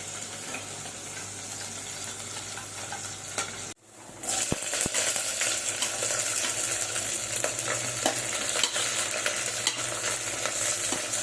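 Fresh biryani masala frying in a pan as it is stirred: a steady, close sizzle with scraping clicks. The sizzle drops out for a moment early on, then returns louder and denser.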